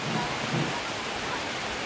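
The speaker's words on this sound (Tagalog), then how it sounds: "Medyo malakas yung hangin at ulan." Strong wind and rain roar together as a dense, steady wash of noise with slight gusting swells, heard close and continuous without any voices.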